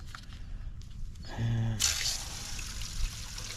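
Water runs into an emptied tank, starting with faint drips and trickles, then turning into a louder, steady gushing flow partway through, while a low hum and brief tonal sounds pass beneath it.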